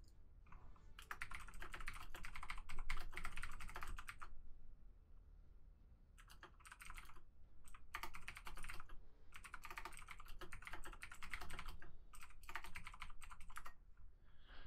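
Rapid typing on a computer keyboard comes in dense bursts of clicks separated by short pauses, close and fairly quiet, with no talking.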